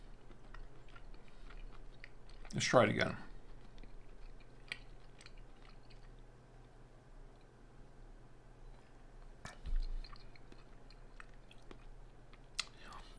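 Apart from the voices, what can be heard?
chewing steak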